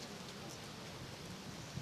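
Rain falls during an outdoor war memorial ceremony in Boryspil, a soft, even hiss of drops pattering on surfaces, faint and steady with no voices.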